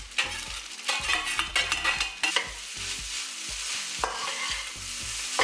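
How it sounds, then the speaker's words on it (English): Fried rice with eggs is stirred in a wok, with a busy frying sizzle under repeated scraping, clattering strokes of a spatula against the metal, close and rhythmic, easing into a steadier sizzle midway before more stirring. "I cook my fried rice for about 5 to 8 minutes until everything's well incorporated and warmed up"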